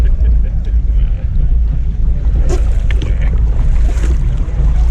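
Torqeedo 1100-watt electric outboard pushing a kayak at eased-back throttle, a steady low hum under heavy wind buffeting and water rush, continuous and close.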